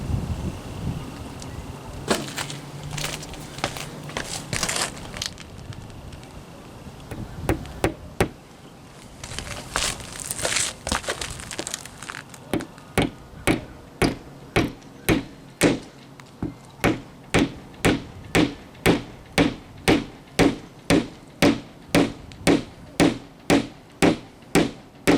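A finishing nail is hammered into a replacement window sill through a pilot hole. After some scattered knocks and handling noise, a long, evenly spaced run of sharp hammer blows follows, each strike loud and close.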